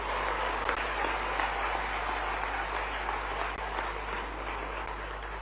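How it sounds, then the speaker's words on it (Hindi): An audience applauds students at a university convocation ceremony at DAVV, sustained even clapping that holds steady for several seconds, slightly distant, with no speech over it. "कृपया ताली बजाकर बच्चों का उत्साहवर्धन करें।"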